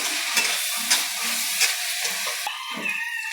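Onions for chicken curry sauté in a pan with a dense, close sizzle, while a spoon stirs in several short scraping strokes before the sound drops away near the end.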